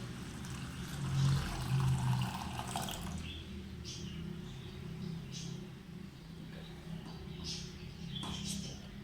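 Cold water is poured into a pot of Kashmiri pink tea after the gas flame is turned off, giving a steady low splashing and gurgling pour lasting several seconds, close by and without talk.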